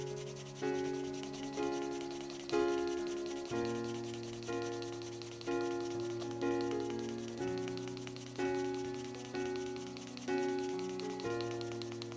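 Sandpaper scrubs vegetable-tanned leather in steady, repeated strokes, each one swelling and fading in an even rhythm, close and moderately loud, with no talk.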